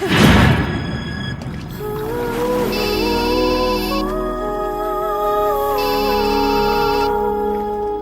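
A phone ringtone plays a repeating electronic melody, steady and loud, after a brief noisy burst at the start.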